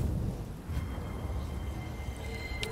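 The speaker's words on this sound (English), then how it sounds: "Now, why is it raining?" Steady rain hisses with a low rumbling undertone in the video game Blue Fire, a continuous stormy wash with a faint sharp thunder crack near the end.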